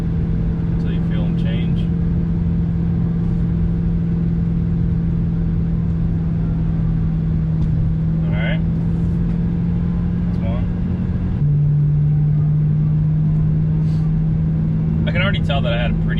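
BMW E90 M3 driving with steady engine drone, light throttle and braking to bed in new Turner TrackSport rotors; a continuous loud in-cabin hum with a slight pitch step, while a person talks over it.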